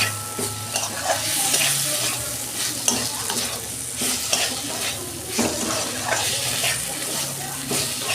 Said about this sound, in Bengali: বেগুনগুলো দিচ্ছি আমি। মশলা কষানো হয়ে গেছে, তেল ভালো বেরিয়েছে।